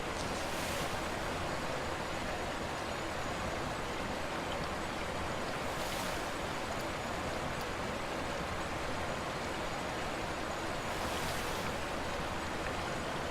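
Water splash and spout effects in the Planet Coaster video game, a constant loud rushing wash of water with faint periodic surges, steady throughout and with no talking.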